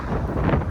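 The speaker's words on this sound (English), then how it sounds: "I knew it was going to be windy over here out front on Woodward" Wind buffets an outdoor microphone on Woodward, a steady low rumbling roar with gusty swells and no speech.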